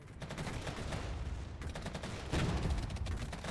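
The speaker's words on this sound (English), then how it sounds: "Dropping artillery on this back line" Artillery rains on a back line in the video game Regiments, a dense, continuous barrage of booming impacts and rapid gunfire with no gaps, growing heavier near the end.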